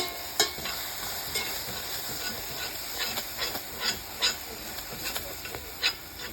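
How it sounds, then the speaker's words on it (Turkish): Starch water being stirred into a pot of layered milk pudding: a steady, soft hiss with scattered clicks and scrapes of the spoon against the pot, fairly faint and without talk. "Nişastalı suyumuzu ilave ediyoruz arkadaşlar. Sürekli karıştırıyoruz."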